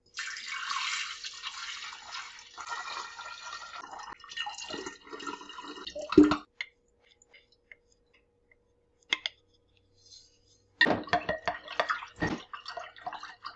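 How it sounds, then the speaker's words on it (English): Lemonade poured from a container into a pitcher, a trickling, splashing stream for several seconds that fades, followed by quiet and a few later clinks and splashes, close by. "Now we are just going to pour this in your pitcher."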